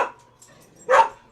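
A house dog barks once, loud and close, as it reacts to booming noises, following a brief faint sound and near silence, with no talking.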